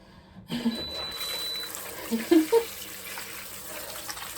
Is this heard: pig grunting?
no